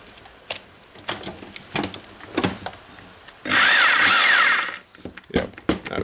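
Makita HR2611FT rotary hammer drill switched on for about a second and a half of loud, steady running amid handling clatter and bumps, alone without talk.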